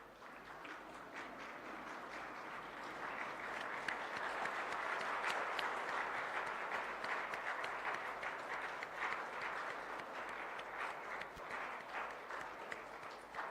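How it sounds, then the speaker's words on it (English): Sustained audience applause fills a hall after everyone rises for a morning space-mission guidance lecture, a steady dense wash of many hands clapping at even loudness for the whole stretch, with no talk over it. "All please rise and give a loud applause."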